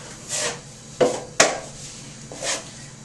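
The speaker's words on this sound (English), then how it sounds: "what I'm going to do is just pull my knife lightly over it" A drywall knife drawn lightly across joint compound over tape during a nail pop repair, giving several soft scraping strokes with a couple of sharper taps, close and alone.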